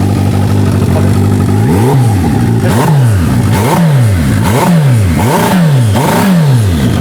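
A turbocharged Suzuki Hayabusa motorcycle engine revs hard in a series of about six repeated pulls, each rise dropping off abruptly as the engine cuts out midway, loud and close with no talking.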